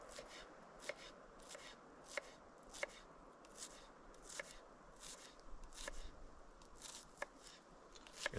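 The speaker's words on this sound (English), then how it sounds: "Let's just get them chopped up." Knife chopping peeled sweet potatoes on a board for a sweet potato and butterbean curry cooked outdoors over a Kelly Kettle, with steady, evenly spaced sharp chops at close range and no talking.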